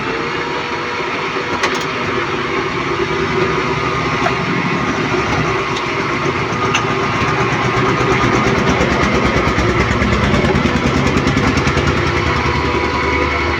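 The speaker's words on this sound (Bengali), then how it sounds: "ভাই বারবার মেশিন দিয়ে নেড়ে ছেড়ে কিন্তু একদম ফিনিশিং করে ফেলতেছে আম।" A machine stirring mango for sherbet runs as a steady, loud mechanical drone with a continuous motor hum, close by and alone without talk.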